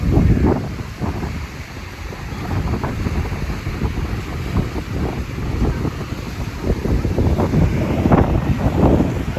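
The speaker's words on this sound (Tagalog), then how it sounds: "Waves." Sea waves washing against a boat off Boracay at sunset, heard alongside heavy wind buffeting the microphone; a constant loud rushing surge with irregular swells and no voices.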